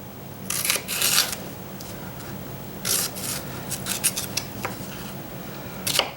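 A knife slices through peppers in a home kitchen in a few short, crisp scraping strokes, close and fairly quiet, separated by pauses of near silence.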